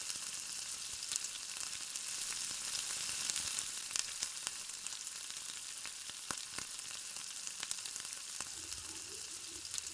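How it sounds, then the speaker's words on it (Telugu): Cluster beans fry with onions in a pan, giving a soft, steady, fairly quiet sizzle with scattered small crackles and pops, unaccompanied by speech. "ఆనియన్స్ వేగాక నీట్గా కడిగి పెట్టుకున్న గోరుచిక్కుడుకాయను వేయండి"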